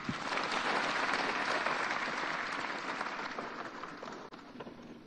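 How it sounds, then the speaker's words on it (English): Sustained, dense applause from a large audience filling an auditorium at a political manifesto launch, loud and steady, then easing slightly before the end. "I think she deserves another clap."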